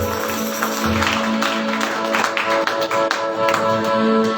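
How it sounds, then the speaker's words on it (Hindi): Hands clapping together across a congregation during a Sunday church worship service, a dense steady patter of applause carrying on over sustained music. "ताली बजाकर धन्यवाद आत्मा के सामने"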